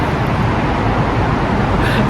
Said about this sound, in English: Sorry, it's a bit loud with the traffic.